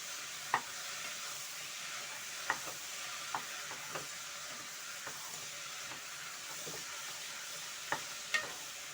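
Black beans (njahi) being stirred in a cooking pot: faint, distant scraping taps recurring irregularly over a low, steady hiss of simmering.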